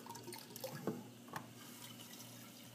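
Quiet liquid swishing and dripping as yeast is stirred into homebrew wort, with a couple of brief clinks and splashes around the first second and a half, then a low, steady wash.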